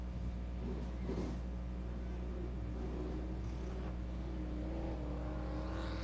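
A race car laps a dirt speedway at Dixieland Speedway, its engine a faint, distant rumble that swells and rises in pitch under a constant low background hum, with no talking.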